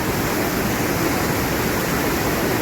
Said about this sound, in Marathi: अतिशय वेगामध्ये खूप स्पीडमध्ये पाणी येते